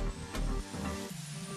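Aerosol can of shellac spraying onto a wooden dresser being refinished, a steady close hiss with brief pauses and bursts as the nozzle is pressed and released.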